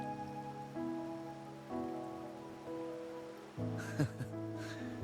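Rain falls in the video game Wuthering Waves as a soft, steady patter beneath gentle tonal music, faint and continuous throughout, with a few slightly louder bursts near the end.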